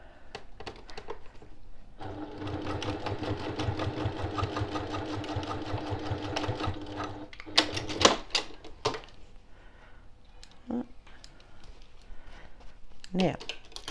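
A sewing machine stitches along the seam line of a boxed zipper pouch with French seams, a fast steady needle chatter running for several seconds, then stopping into a few handling clicks and soft talk.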